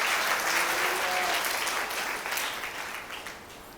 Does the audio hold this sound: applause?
yes